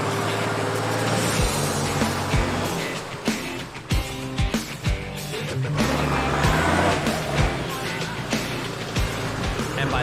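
A 4x4 drives back through thick mud on a wet Barrington Tops track, its engine droning steadily and loudly with bumps and splashing knocks throughout.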